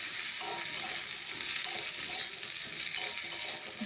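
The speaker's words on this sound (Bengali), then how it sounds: "ভালো করে আলু পটলটা নুনের সঙ্গে কষিয়ে নিতে হবে" Potato and pointed gourd sautéing with salt in a pan, a faint continuous sizzle with soft irregular stirring scrapes throughout.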